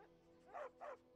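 A dog in a video game gives two short, distinct barks in quick succession, moderately close, over a quiet steady background hum.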